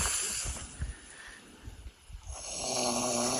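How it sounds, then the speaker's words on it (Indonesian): A person snores at night at a campsite on a mountain hike up Rinjani. The snoring is close and loud, with rough, rasping breaths over a steady background hum. "Di sana ngorok, di sini ngorok."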